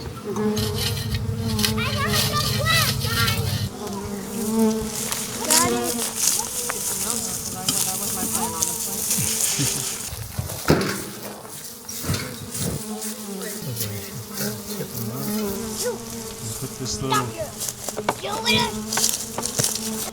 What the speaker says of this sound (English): It's a week later and the bees have arrived.